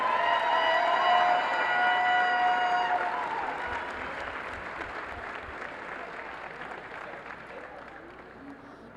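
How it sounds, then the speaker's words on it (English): A crowd applauds women's basketball seniors in a college gym, steady clapping that starts fairly loud while a voice talks over it, then settles into a softer, thinning patter over about nine seconds. "one more round of applause for our women's basketball seniors"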